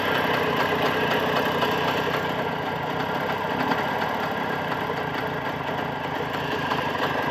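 A Jawa 634 two-cylinder motorcycle engine idles at minimum revs, a steady close mechanical putter with a fine rapid rhythm and slight knocking vibration, running alone without talk throughout.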